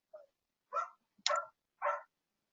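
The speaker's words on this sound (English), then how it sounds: "Can you hear my dog?" A dog barks outdoors in four separate sharp barks spread over a couple of seconds, moderately distant and alone without talk.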